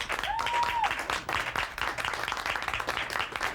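A 1984 WWF Tuesday Night Titans studio audience applauds steadily, a dense mid-level wash of clapping with a brief voice near the start.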